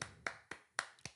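A few people clap sparsely and quietly, giving about five separate claps in an uneven rhythm in a quiet room during a podcast.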